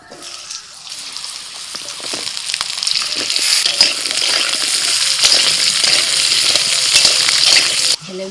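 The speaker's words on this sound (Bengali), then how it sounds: "এবার তেলের মধ্যে দিয়ে দিচ্ছি আলু।" Potatoes frying in hot oil for an okra and potato curry, a steady loud crackling sizzle with scattered pops and occasional scraping, building through the clip and cutting off abruptly near the end.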